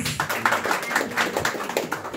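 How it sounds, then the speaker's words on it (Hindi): Brief, scattered clapping from an audience at a jewellers' Couple No. 1 contest event, individual claps standing out in an uneven patter for about two seconds with some room noise behind. "तो एक बार जोरदार तालियां हो जाए प्लीज"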